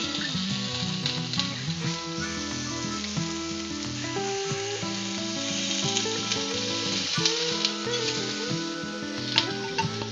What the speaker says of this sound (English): I'm gonna sear that one side a little bit.